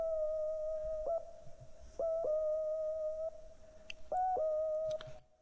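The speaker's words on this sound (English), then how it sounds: "This sound is like a lead sound from Roland as well." A Roland Pro Max plugin synth lead holds a pure, sustained tone with brief pitch dips between phrases, playing alone at low volume in a WayBack-style beat breakdown.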